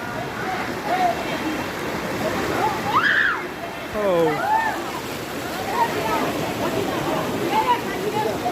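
Water splashing and sloshing as children play and throw water around outdoors, a steady wet wash with occasional bigger splashes, under voices calling and talking throughout.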